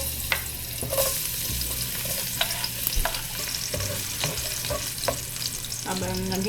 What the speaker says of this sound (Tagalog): Magigisa muna tayo ng sibuyas, ng bawang at sibuyas.